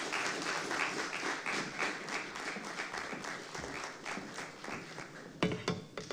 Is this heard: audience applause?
yes